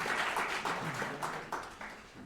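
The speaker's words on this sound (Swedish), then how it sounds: "En varm applåd för alla volontärer som har hjälpt till idag." Warm applause for volunteers at a Swedish coffee championship event, a crowd clapping steadily for a couple of seconds and fading slightly at the end.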